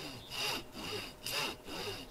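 An old saw cuts through wood in the survival game DayZ with rhythmic back-and-forth strokes, about three rasping passes, steady and close.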